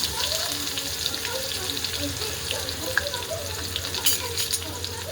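Onion and curry leaves fry in a hot pan with a busy, bubbling sizzle, broken by light spatula scrapes and taps toward the end.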